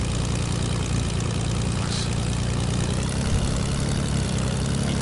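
A propeller plane in a video game drones steadily with a loud, continuous engine hum and buzzing airscrew, even and unbroken throughout, with no voices.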